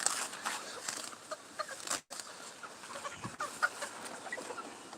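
Several chickens clucking near their coop outdoors, with soft scattered clucks and calls at close range against a light breezy background.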